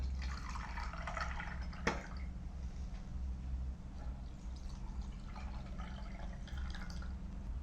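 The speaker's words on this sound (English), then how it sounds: "Now pour some water in these glass jars." Water poured into glass jars while making DIY water candles, a soft steady liquid trickle with a few small drips over a low constant background hum, fairly quiet and close, no talking.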